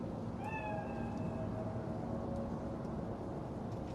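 A cat gives a single drawn-out meow in the video game Cyberpunk, rising then trailing off over a constant loud mechanical hum.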